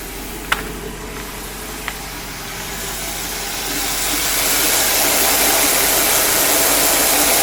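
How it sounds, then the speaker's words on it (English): A 1956 Cadillac Sedan DeVille engine runs at a steady idle with a continuous broadband rumble and hiss, after two sharp clicks near the start, and grows slightly louder partway through as it settles into an even drone. "So we have the engine running, and I'm going to kick it down."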